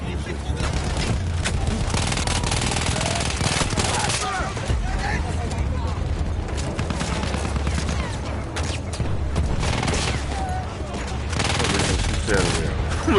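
Rapid bursts of gunfire rattle continuously like a close, loud firefight sound effect, with dense overlapping shots filling the whole stretch.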